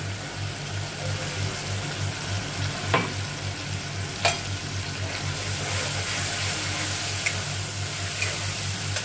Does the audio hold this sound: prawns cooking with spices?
yes